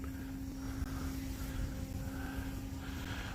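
An Edge 540 RC airplane with a 41 to 42 inch wingspan flies at a flying field, its engine giving a steady, continuous drone that stays fairly distant and even in level throughout, with no talking.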